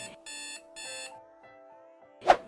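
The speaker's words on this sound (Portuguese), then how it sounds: "Já acordou hoje com o despertador do seu dispositivo móvel tocando?" A mobile phone alarm sounds as two short, evenly spaced bursts of bright beeping tones, followed by a sudden louder tap or thump near the end, with no one talking.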